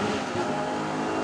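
Thunder Saloons race car at Silverstone International pulling away from a rolling start in third gear, a loud, steady engine roar close by that holds without a break and never drops into silence.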